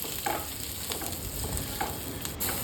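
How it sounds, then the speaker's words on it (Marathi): Roasted green chillies sautéed in a pan over a low gas flame, giving a soft continuous sizzle with a few faint stirring clicks, close and even throughout. "भाजलेला हिरव्या मिरच्या आपल्याला हे बारीक गॅसवर परतून घ्यायचं आहे"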